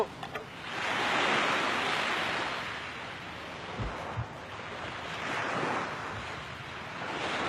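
Sea waves surge and wash in broad rolling swells at a beach, loud and close, with wind buffeting the microphone.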